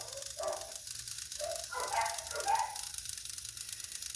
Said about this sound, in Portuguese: ouvindo mais os cães que estão latindo ao fundo